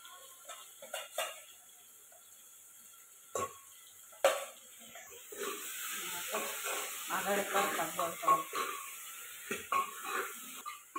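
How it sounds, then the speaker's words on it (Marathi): Chicken sautéing in oil inside a pressure cooker, a soft sizzle broken by scraping spoon stirs and metal clinks against the pot, fairly quiet and close. "तेलात चिकन परतून घ्यायचं."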